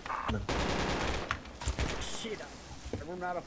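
Rattling gunfire fired down a road in a video game, a dense burst of machine-gun shots up front followed by scattered single shots and clatter, with a voice talking near the end.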